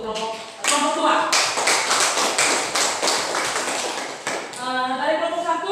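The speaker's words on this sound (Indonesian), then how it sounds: "Kita tepuk tangan dulu untuk kelompok 2" Students in a Catholic religious education classroom clap for a group, a dense burst of handclaps filling most of the stretch, with voices talking at the start and end.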